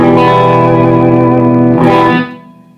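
A sustained electric guitar chord rings out with no added effects, fading away over the last half second. No one speaks.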